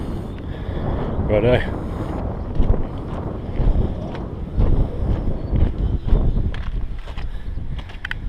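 A boat runs along a klong in Bangkok, with a rumbling engine and buffeting wind and water noise close to the microphone, and someone speaking briefly over it.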